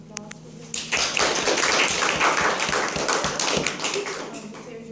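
Classroom audience at a group speech presentation breaks into clapping after a brief voice, a moderate burst of individual claps with some distinct taps standing out, steady for several seconds.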